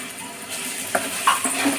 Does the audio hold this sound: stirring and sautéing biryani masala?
yes